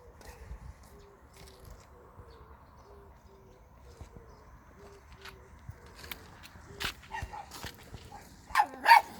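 Dogs bark a few times in the distance in a rural Korean village, the barks bunching up near the end over a low, steady background rumble.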